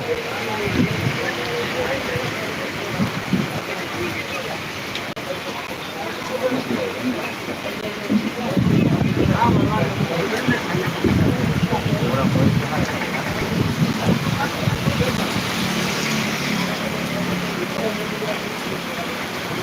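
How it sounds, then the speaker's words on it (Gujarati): Steady heavy rain hisses in a downpour at Jamkandorna while gusts of wind buffet and roar, and people speak now and then over the storm. "પવન હવે થોડોક શાંત થઈ ગયો હે અને વરસાદ"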